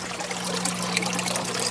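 Water trickles steadily through aquarium siphon pipes merged into one through a reducer, making a continuous close splashing dribble with a faint low hum underneath.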